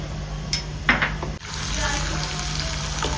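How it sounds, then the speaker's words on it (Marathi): Peanuts, half a bowl of them, frying in hot oil for a fenugreek chutney, giving a steady broadband sizzle that settles in after a few brief clinks and handling knocks near the start. "अर्धा वाटी शेंगदाणे घेतलेले शेंगदाणे आपण आता वापरले चांगले तळून घेऊया"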